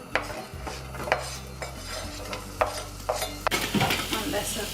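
Onions hit a light touch of olive oil in a pan, giving a steady close sizzle with scattered scraping clicks of a utensil against the cookware.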